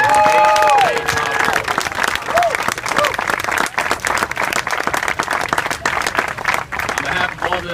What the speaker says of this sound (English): So please join me in a big round of applause for Brian and Barbara.